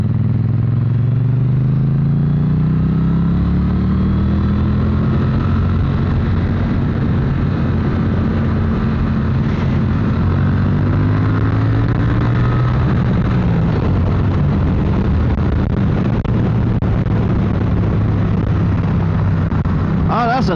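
A Triumph Modern Classics motorcycle rumbles steadily while being ridden, its low engine drone continuous and loud with pitch shifts as revs rise and fall.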